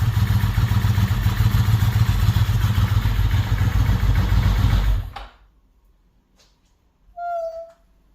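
A Ducati 916 motorcycle engine idling loudly with a low rumble and clatter for about five seconds, then cut off abruptly into near silence, followed by a brief faint sound.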